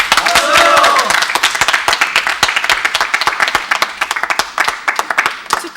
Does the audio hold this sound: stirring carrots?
no